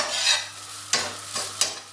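A metal spatula scrapes and stirs egg fried rice in a sizzling metal pan, with a few sharp scraping strokes over a steady frying hiss.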